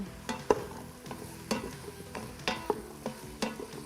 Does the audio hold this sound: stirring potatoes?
yes